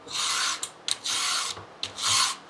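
Hand file rasping across a chainsaw chain in three long, steady strokes, close and loud, with short pauses and light clinks between them.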